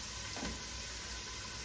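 Onions sizzling in a hot pot as they go in for a pot roast, a steady close frying hiss that rises briefly at the start and then holds, with no talking.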